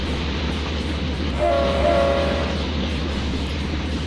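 A video game diesel locomotive, a single GE engine hauling a long coal train, rumbles along at close range with a low steady engine drone, and a brief horn-like tone sounds partway through.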